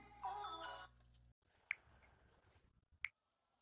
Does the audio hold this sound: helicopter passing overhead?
no